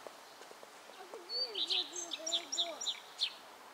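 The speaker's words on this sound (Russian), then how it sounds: "Птички поют как? Как они поют?" Small birds chirp and trill in a summer garden at a dacha, a run of bright, quick calls clustered in the middle and end, set over a lower warbling tone against quiet background.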